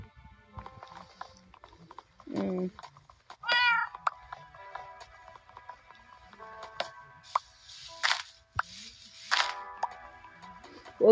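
Cat meowing inside a block survival video game where a horse is also present, with several short, separate meows and squeaky calls spread across the stretch over quiet background game sounds.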